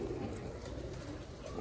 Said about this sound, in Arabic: نعاود لكم الحمام